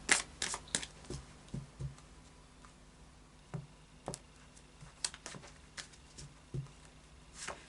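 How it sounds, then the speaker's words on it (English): A Faery Oracle card deck by Brian Froud is shuffled by hand, producing irregular bursts of crisp card slaps and riffles separated by short pauses, close and fairly quiet, with no one speaking. "I'll just do a final shuffle now of the Fairy Oracle deck by Brian Froud."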